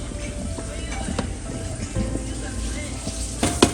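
Sausages sizzle in a pot for potato leek soup while being stirred, with a steady frying hiss, scattered scrapes and a sharper knock near the end, and a voice speaks intermittently.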